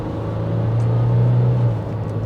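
2025 VW Amarok with a 3-litre V6 accelerating, a low, smooth engine rumble that swells briefly then eases, heard close from inside the cabin.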